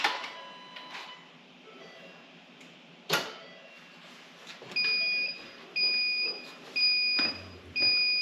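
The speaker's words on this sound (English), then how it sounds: "So that beeping is actually the Bluetooth pairing mode." A series of short electronic beeps from a winch in Bluetooth pairing mode on a Ford Bronco repeats at an even pace, each a pair of steady tones, following a couple of clunks and clicks.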